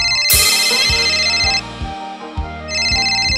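A telephone ringtone plays a bright, repeating electronic melody, loud and near, cycling through its pattern with no voices over it.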